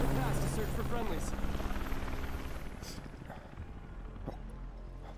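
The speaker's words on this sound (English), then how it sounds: "Oh, thank God, the Avalanche helicopter." Helicopter rotor thrum from the Avalanche helicopter in Final Fantasy VII Remake, loud and steady at first then fading as it flies past, with voices talking over it.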